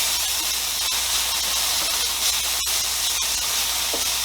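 A clove of garlic sizzles in a hot frying pan with a steady, loud hiss, broken by a few faint clicks and taps of utensils; no talking.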